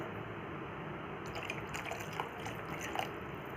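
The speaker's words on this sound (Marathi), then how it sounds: "पाणी भरपूर टाकायचं" Water is poured into a pot of okra curry, a faint steady liquid rush with small drips and splashes near the end, quiet and close.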